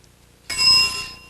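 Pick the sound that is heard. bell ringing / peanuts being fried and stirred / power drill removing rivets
bell ringing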